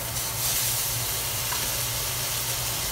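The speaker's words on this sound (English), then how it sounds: "Look at that sizzle on there." A steady, crackling sizzle of beef steak frying with butter in a hot pan, soft and continuous with faint hissing.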